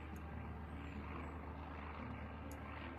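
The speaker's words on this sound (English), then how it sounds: "I can hear another one of those, plane things." A propeller airplane drones steadily overhead in a zombie survival game, a continuous low engine hum with no speech.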